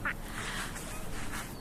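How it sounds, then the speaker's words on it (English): Ducks at a park give a few quacks, one clear call at the start and fainter ones later, over a steady outdoor background hum. "See the ducks, Ava?"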